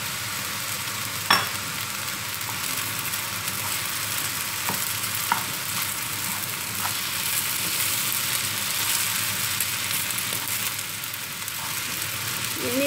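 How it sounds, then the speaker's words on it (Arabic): Onion, kefta and Chinese vermicelli fry in a pan with a steady, close sizzle, while a few sharp clicks and scrapes of stirring break through now and then. "بعد ما تشحرات البصله والكفته غادي نضيفو دابا هاد الشعيرة الصينية"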